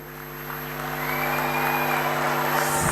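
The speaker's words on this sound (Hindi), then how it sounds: "एक बार जोरदार ताली बजा के पधारे हुए सभी अतिथियों का स्वागत करें" A large crowd applauds to welcome guests at an Auto Expo in Indore, a broad steady wash of clapping that swells gradually, over a constant electrical hum.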